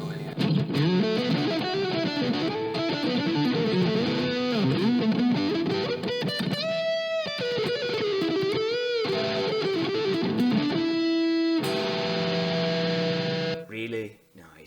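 Distorted electric guitar lead lines played with a single-coil pickup through a Fender Mustang LT25 amp, sustained bending notes and melodic runs, loud and continuous, ending with a held chord that fades out.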